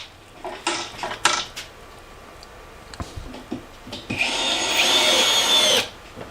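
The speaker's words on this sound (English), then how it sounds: "And now I'll put 22mm screws in from behind to hold them." A power drill drives 22mm screws into a wooden router cabinet: several short close bursts, a few sharp knocks, then one longer whining run of about a second and a half.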